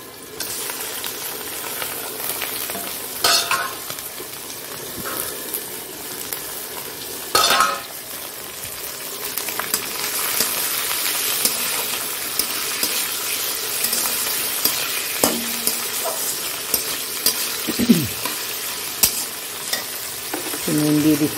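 Chicken pieces stir-fried with onions in a pan, a steady loud sizzle broken by repeated scraping stirs of the spatula, with no voices.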